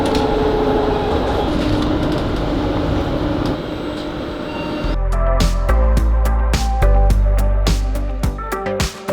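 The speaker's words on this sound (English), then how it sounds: "We were wanting to get on one of these Dutch double-storey trains" A Dutch double-decker train rumbles along, first as a steady mechanical drone, then with louder rhythmic clattering and sharp clicks as the carriages run over the rails.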